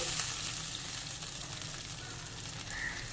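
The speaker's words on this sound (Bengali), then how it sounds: "এবার যে আদা টমেটো পেস্ট করেছিলাম সেটা দিয়ে দিলাম" Ginger and tomato paste sizzles and spits in hot oil with already-fried potatoes, the steady crackle of frying running close and continuous throughout.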